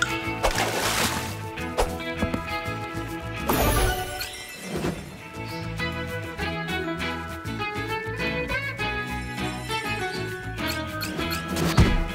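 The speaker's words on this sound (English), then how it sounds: "Dunk the other pup in the water to win." Water splashes as a pup is dunked in a Thomas & Friends video game, with busy game music, crashing effects and sloshing throughout.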